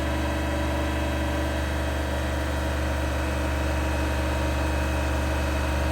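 Engine of a 2006 Land Rover Range Rover held at 3,000 RPM, a steady, even hum with constant loudness and no change in pitch, heard close with no talk.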